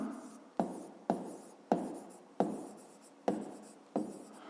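Marker or chalk writing on a board during a 5th-grade math lesson, a series of six quick scratchy strokes at a steady rhythm, close and fairly quiet, no talking.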